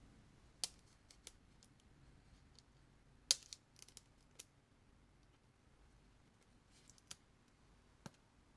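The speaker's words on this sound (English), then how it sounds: "we need to cut the stickers a little bit here to put the control horns on" Stickers on a foam RC plane, an Extra 300 model, are cut to fit control horns, heard as sparse, faint, sharp clicks and snips spread irregularly over a quiet background.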